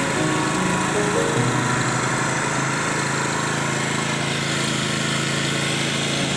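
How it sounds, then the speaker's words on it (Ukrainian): A Honda EM6500CXS 6.5 kW petrol generator runs steadily at an even engine pitch, loud and close, with a continuous drone and no talk. "Генератор."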